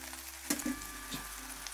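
Steady sizzling of sous-vide pork tenderloin searing uncovered in a hot pan, with a couple of brief clinks and scrapes of a utensil near the start.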